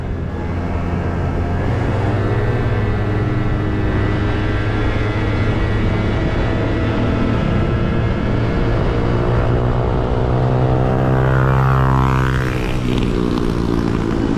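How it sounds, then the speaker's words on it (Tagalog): A steady, loud engine drone with rising and falling pitch from a passing Honda Julio motorcycle on a highway, continuous throughout, with no voices. "Ingay ng motor ni Kuya."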